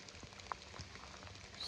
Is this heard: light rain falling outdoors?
yes